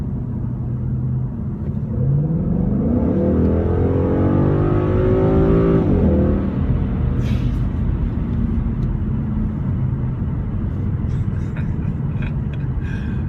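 A 2016 Ford Mustang GT with an automatic transmission accelerates hard, its engine note climbing steadily in a loud, rising roar that upshifts and settles into a heavy rumble inside the cabin, with no talk.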